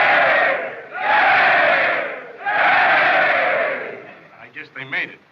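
A big crowd of prisoners yells out a sustained cheer in bursts in a 1930 prison film, loud and close, with a few scattered voices as it fades out.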